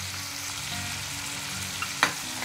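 Prawns stirred and lightly fried over medium heat in a pan, giving a steady close sizzle with one sharp clank of the spatula near the end and no talking.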